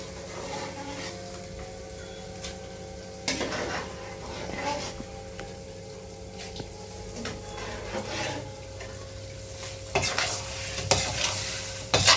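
Goat intestine curry (kudal kari) sizzles and hisses in a pan while a spoon stirs and scrapes against the metal, with faint intermittent clatter, no voices.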